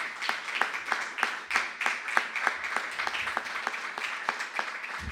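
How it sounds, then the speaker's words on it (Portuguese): A church congregation at a Tuesday evangelical service in Americana, São Paulo claps together in a steady, fairly loud round of applause, the sharp claps landing in a quick even rhythm throughout with no talking over them. "Uma salva de palmas ao nosso Senhor Jesus Cristo."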